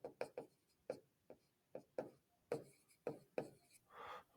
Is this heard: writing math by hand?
yes